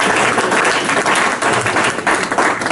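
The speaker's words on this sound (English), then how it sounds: "Let's give Aaron a big round of applause" Loud, dense applause from a room full of people, continuous clapping close by with no talking on top.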